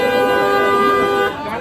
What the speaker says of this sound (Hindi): लगातार 20 मिनट तक चिराग पासवान गेट के बाहर हॉर्न बजाते रहे